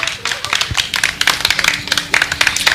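An audience claps in support, a burst of fairly close, uneven hand claps of moderate loudness lasting a few seconds, with some faint talk beneath.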